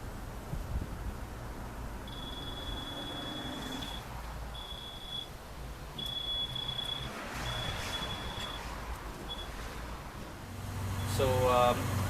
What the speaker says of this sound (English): So here's the fast beep.